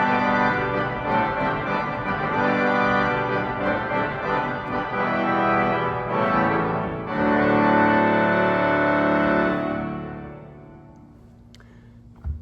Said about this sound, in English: And then together, the 16, 8, and 4 sounds a bit like this.